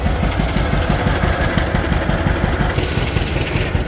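A tractor engine idles at a tractor ride in Dellrose, Tennessee, among antique John Deere, Minneapolis-Moline and Farmall machines, with a loud, steady, close low thumping rhythm throughout.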